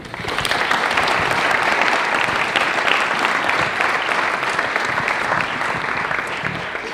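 An audience claps steadily to welcome guests at a university panel talk, the applause rising quickly, holding warm and sustained for several seconds, then tapering slightly near the end.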